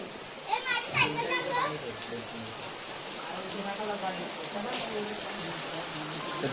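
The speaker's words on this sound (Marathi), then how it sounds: "पाऊस आता जोरातच आहे" Heavy rain falls near a river in Konkan, a steady hissing wash throughout while children's voices and chatter rise over it at the start and fade into the rain.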